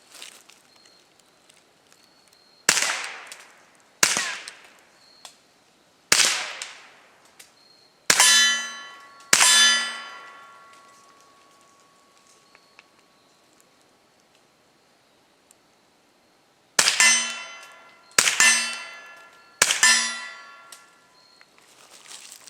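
KelTec CP33 pistol fired at steel targets: about eight sharp shots, each followed by a ringing metallic clang. They come as a spaced group, then a quiet pause, then a quicker cluster of three at close range.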